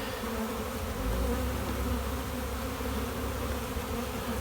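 Honeybees in an open hive buzz steadily at close range, a continuous dense hum with no voices.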